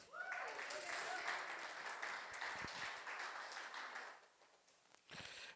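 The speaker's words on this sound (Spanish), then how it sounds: "dar un aplauso fuerte a Dios." A church congregation applauding during a worship service, a dense steady wash of clapping that drops off near the end, with a brief renewed burst just after.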